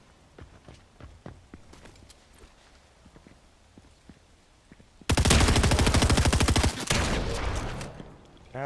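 Rapid automatic gunfire in a video game rattles out in a loud, dense burst of about two seconds, then tails off, after a stretch of quieter scattered footstep-like clicks.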